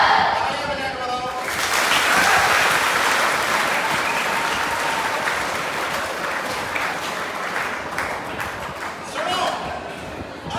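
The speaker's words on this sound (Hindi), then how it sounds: "तालियां बजा के बताओ।" A crowd bursts into loud, sustained applause at a seat-belt safety talk, a dense wash of clapping that holds for several seconds and thins toward the end, with voices heard under it.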